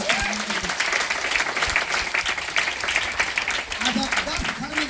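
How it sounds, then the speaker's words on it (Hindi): At a DXN business meeting in Patna, the audience claps loudly and continuously. A speaker's voice rises over the applause at the beginning and again toward the close. "जोरदार ताली होना चाहिए।"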